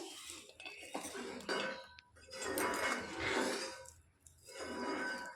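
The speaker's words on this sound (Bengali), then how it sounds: "নুন আন্দাজ মতো দিয়ে আমি এটা ভালো করে ফেটিয়ে নেব।" Yogurt with turmeric and salt whisked in a bowl, several bursts of soft scraping and tapping against the bowl separated by brief pauses, close and fairly quiet.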